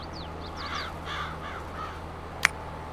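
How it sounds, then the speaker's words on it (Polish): Ravens in Farming Simulator 22 give several harsh caws spread across the moment, moderately near over a steady low ambient hum, with one sharp click near the end. "Kruki mi tu kraczą, latają."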